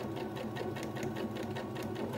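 A sewing machine stitches a fabric face mask in a fast, steady, close mechanical whir with a regular rapid needle rhythm throughout, and no one talks.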